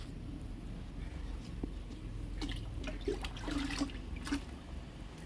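Liquid fertilizer poured over bean plants gives a soft, quiet trickle and splash, with a few brief louder spatters near the end.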